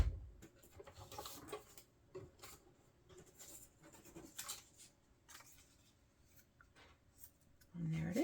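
Paper being cut for a handmade Christmas card: soft scattered snips and rustling scrapes close by, with a brief louder noise at the very end.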